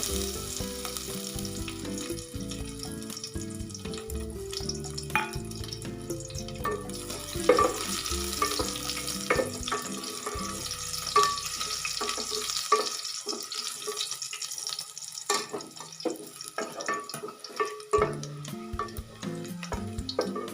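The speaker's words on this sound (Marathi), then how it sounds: "तेल तापलेलं आहे आता आपण याच्यामध्ये घाललेला आहोत ठेचलेला लसूण" Crushed garlic sizzles and fries steadily in hot oil in a home kitchen pan, a continuous close crackle with occasional clinks of a utensil stirring and some water-like splashes, with no talking over it.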